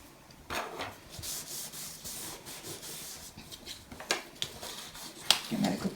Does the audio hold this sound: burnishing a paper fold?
yes